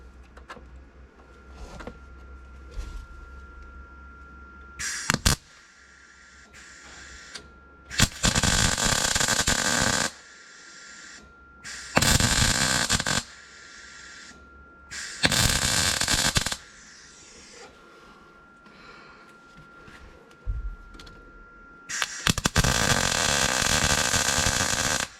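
A welder tack-welds the rusty body of a '61 Cadillac. Several loud bursts of crackling, sizzling arc noise last from one to three seconds each and are separated by quieter pauses in the shop.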